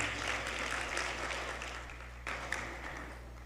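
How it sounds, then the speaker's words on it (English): Audience applause at the opening of an annual convention, a fairly faint, continuous spread of clapping from a crowd heard at a distance, with no voices over it. "Can we get another round of applause for them?"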